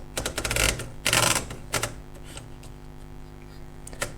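Paper is fed into a Princess 300 typewriter, with bursts of ratcheting platen clicks and rolling, then a few sparse mechanical ticks, all close and loud.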